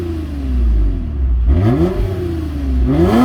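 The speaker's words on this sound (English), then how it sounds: "This also has a dual exit TRD catback exhaust, which is louder than most other Camrys, and it does sound pretty nice with the V6." A 2022 Toyota Camry TRD V6 with a dual-exit TRD catback exhaust fires up and settles into a steady, throaty idle, then rises through a couple of brief revs, loud and close with no talking.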